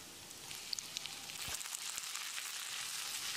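Chopped tomatoes hitting a pan of already softened onions, frying with a steady close sizzle and a few crackles, no talking.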